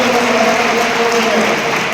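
An audience at a one-day workshop on English and science applauds a guest, with dense, continuous, fairly loud clapping throughout.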